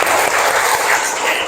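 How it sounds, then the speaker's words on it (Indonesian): Ninth-grade students clapping in a classroom, a brief burst of dense applause lasting under two seconds, mixed with some voices. "tepuk tangan dulu"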